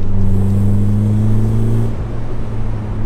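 A small BMW car's engine with a slightly metallic tone, droning loudly and steadily, then the pitch drops and the note thins toward the end, heard close with no talking.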